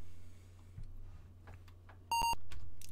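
Beeps from the Apple II game Crown of Arthain: a short, bright electronic tone burst following faint background clicks, loud against a quiet backdrop.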